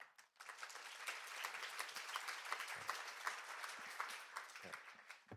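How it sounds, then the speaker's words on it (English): Sustained applause from a sizable audience at a symposium opening ceremony, steady and dense clapping that carries on throughout without a break. "Please join me giving her another round of applause"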